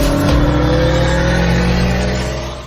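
Subaru Forester SG accelerating hard in a race against an Audi A3, a loud, steady engine drone with strong low rumble and sustained revving tone, close up, fading slightly at the end.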